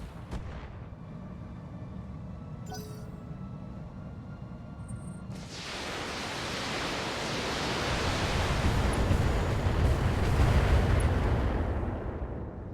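Heavy weapons fire at a mortar turret in the BattleTech video game. A steady roar of sustained blasts and rumbling impacts swells louder midway and then cuts off near the end, with no voices over it.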